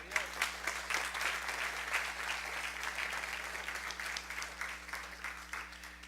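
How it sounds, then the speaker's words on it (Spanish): A church congregation breaks into steady applause, many hands clapping together in a dense, sustained wash at moderate distance with no talking over it. "dése un aplauso a usted mismo."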